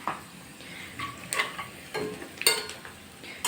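Onions with red chili powder being stirred in a pan for Maharashtrian zunka, a few soft spoon scrapes and light sizzling taps at close range, quiet and with no talking.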